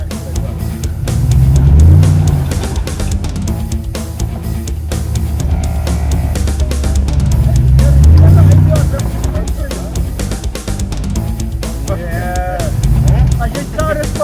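An off-road Cruiser revs its engine while climbing a sand pit obstacle at Vaal Marina, a loud continuous drone that swells and eases in several long surges, with voices talking over it.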